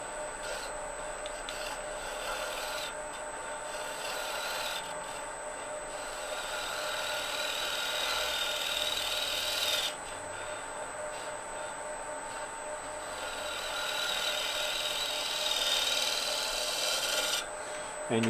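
A fluteless woodturning gouge making pull cuts on a spinning wood box, held at about 45 degrees, producing a steady close rasping shear with a running lathe hum and brief pauses between passes.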